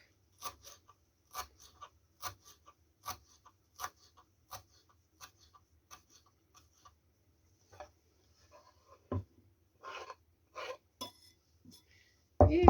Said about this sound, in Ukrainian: Можна кріп покришити